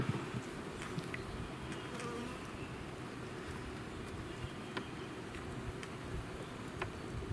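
A dense, continuous buzzing of many honey bees around a newly installed hive fills the air, steady and close, with occasional individual insects zipping past.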